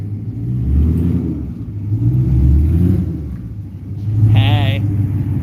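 Audi RS7 engine revving nearby, a deep continuous rumble that swells and eases in waves, with people talking over it.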